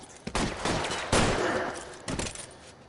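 Video game gunfire rings out in a police shootout scene: three loud, close bursts of shots, each sharp onset trailing into a noisy decay, spaced about a second apart with no talk over them.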